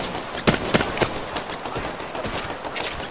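Apex Legends weapons fire in rapid bursts of close, punchy shots, with irregular spacing and brief pauses between volleys throughout.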